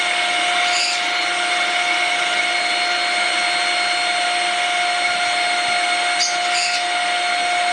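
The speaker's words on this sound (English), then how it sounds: "I'm laying it on its side right now so I can use its vacuum" A Shark stick vacuum motor whines steadily and loudly with a high constant tone, the unit laid on its side, a few brief clicks or bumps breaking the drone.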